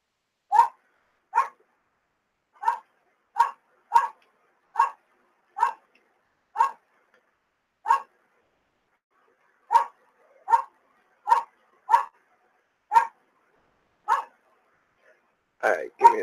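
Several dogs bark in sharp, evenly spaced single woofs, about a dozen close-up barks spread across the stretch with short silent gaps, ending in a louder, rougher cluster.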